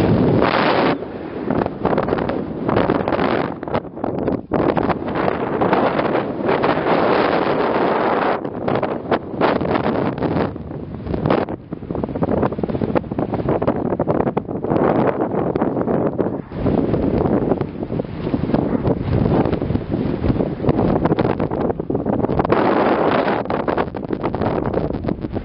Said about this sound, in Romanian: Vântul bătea cu putere